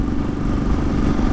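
A 2018 Royal Enfield Thunderbird 500X single-cylinder motorcycle engine while riding, a loud steady low thumping rumble with wind noise, close to the microphone.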